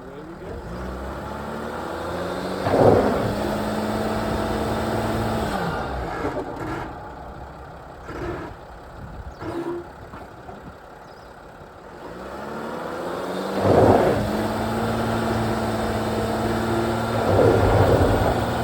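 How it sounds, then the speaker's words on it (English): A 2015–2022 Mercedes Sprinter 4x4 van drives on gravel in four-wheel drive, its engine droning and rising in a few revving surges, with a quieter stretch in the middle. "Now I'm going to put it in 4-wheel drive."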